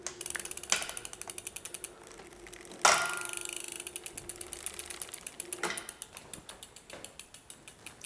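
A Brompton bicycle's chain turns over a newly fitted 39T chainring, giving a steady run of quick ratchet-like clicks and ticks with a few louder metallic clunks, close and clear with no talking.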